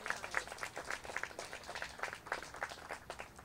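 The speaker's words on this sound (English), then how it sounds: "Let's give him one more round of applause." Audience applause after a talk at a freethought event, a quiet, steady patter of many hands clapping heard from a distance.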